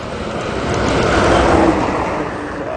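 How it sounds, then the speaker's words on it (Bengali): A vehicle roars past at night on the highway by the Keonjhar ghat slope. The loud, continuous rushing noise swells to a peak and then fades slightly, with no talking. "গাড়ি তাবড় আসছে ভাই"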